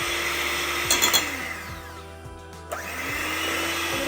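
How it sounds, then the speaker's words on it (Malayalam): An electric mixer whirs steadily as it beats eggs for cake batter, with a loud motor drone and rhythmic pitch dips as the beaters work, and a brief bowl knock partway through; no voices. "ആദ്യം മുട്ട ഇതേപോലെ അടിക്കാം"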